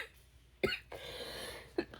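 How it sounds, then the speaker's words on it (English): A woman gives two short, sharp coughs about a second apart, close and fairly quiet, with a faint rumbling background. "No, I just had a cough."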